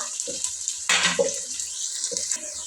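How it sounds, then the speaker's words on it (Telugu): Chopped onions and green chillies fry in hot oil, making a steady, hissing sizzle close by, with a few louder spits and scrapes from the pan. "పచ్చిమిరపకాయలు ఉల్లిగడ్డ వేసేసి ఇవైతే కొంచెం దూరగా వేయించుకుందాము"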